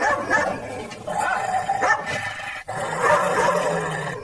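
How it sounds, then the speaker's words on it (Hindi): A dog barks repeatedly and loudly nearby, sharp yapping bursts with brief whimpers between, no talking. "टॉमी उन पर भौंकने लगता है।"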